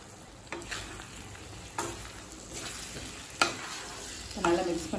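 Spoon scraping and stirring potato and peas masala in a pan, with irregular strokes and a steady soft sizzle underneath, close and fairly quiet, no talk.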